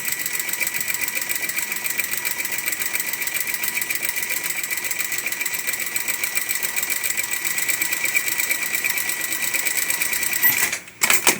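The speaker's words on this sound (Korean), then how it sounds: "봉제선에서 노루발하고 1, 2mm 떨어지게 놓고 쭉 다시 한번 박으시면 돼요" A sewing machine runs a second parallel line of stitching one or two millimetres beside a seam, a fast even mechanical whir that holds steady for about ten seconds before stopping with a few clunks.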